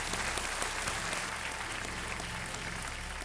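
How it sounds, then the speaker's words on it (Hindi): Steady applause from a TV quiz show studio audience, dense clapping that holds at an even level throughout, with a low hum underneath. "तालियों के साथ इनका स्वागत।"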